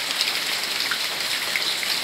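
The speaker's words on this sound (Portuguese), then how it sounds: "Nada melhor do que ouvir esse barulho gostoso da chuva" Steady November rain falls continuously, a dense even patter with scattered nearby drops and no voices.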